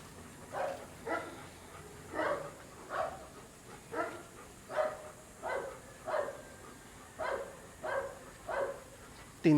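Dogs that range and circle like wolves give about fourteen evenly spaced barks, one roughly every two-thirds of a second, moderately close, over a low background murmur.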